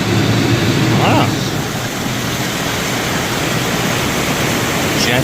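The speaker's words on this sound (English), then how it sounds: "I hear water." Rushing water pours steadily as a broad, loud wash at a desert springs preserve in Las Vegas, with a couple of brief voice-like sounds rising above it.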